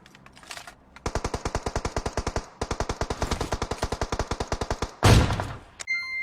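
Rapid automatic gunfire in a first-person shooter game, with long, evenly spaced bursts of sharp shots close and loud, broken by a brief pause and ending in a louder blast.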